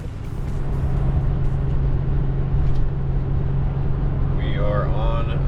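Steady low engine drone and road rumble inside a car driving home after a motorsports raceway event, with a constant hum throughout and a voice speaking under the noise.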